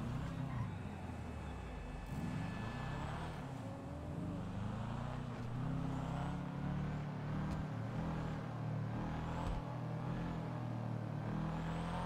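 Toyota Supra car driving in GTA NoPixel, a steady engine drone with shifting revs and occasional gear changes, running continuously under speech.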